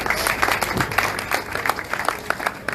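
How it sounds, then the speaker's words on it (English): A large crowd at an outdoor rally in a city park claps steadily, a dense, continuous patter of many hands with a low murmur underneath, loud and sustained throughout. "Please, another big round of applause for him."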